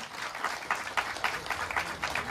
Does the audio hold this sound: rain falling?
no